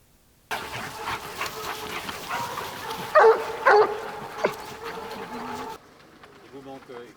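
Hunting hounds bark during a deer hunt in the Tronçais forest, with sharp, loud barks in a cluster midway, over engine noise and people talking nearby, before things quiet down.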